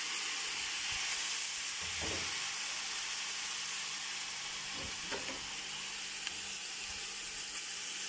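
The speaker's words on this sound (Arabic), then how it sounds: "أول شي راح ننزل اللحم، لا لازم تاخذ صدمة اللحم" Meat searing alone in a hot pot for red tashreeb, a loud continuous hiss of sizzling fat with a few brief stirring knocks, close up and without talk.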